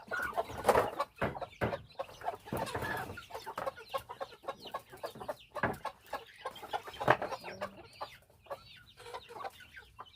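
Small chickens cluck continuously at close range, a busy run of short, overlapping calls with a few louder squawks standing out, no talk over them.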